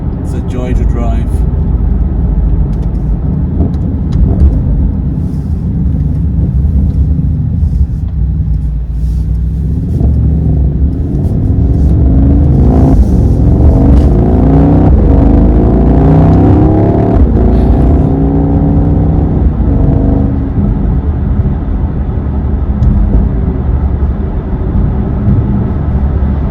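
A 2025 Mercedes-AMG GT63 Coupe accelerates hard, its engine note rising and falling through repeated gear sweeps, loud and close from inside the car, with a voice talking over it.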